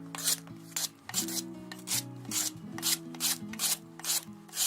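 Lemongrass stalks are shaved thin on a grater, making a rhythmic run of about ten close, rasping strokes with short pauses between, over quiet background music.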